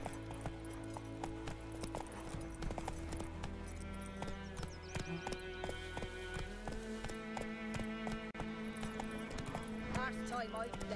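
Roach, the horse in The Witcher 3 game, galloping with rapid steady hoofbeats under game music and ambient sound, while characters talk over it.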